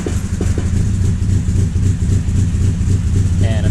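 A Triumph Spitfire engine runs with a newly fitted distributor, a steady low rumble close by, loud and continuous with faint irregular pulses.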